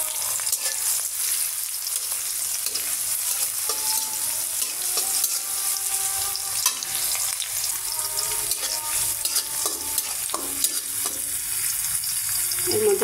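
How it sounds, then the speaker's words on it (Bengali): Oil sizzles steadily in a wok as chickpeas cook, a dense continuous frying hiss with occasional stirring scrapes and pops, close and fairly loud with no talking. "কড়াইতে তেল দিয়ে দিছি।"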